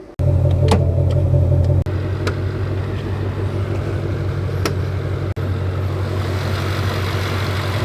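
A Ford Shelby GT500 Mustang with a supercharged 5.2-liter V8 rumbles at a steady idle, a deep close drone that dips briefly twice, with a few faint clicks over it.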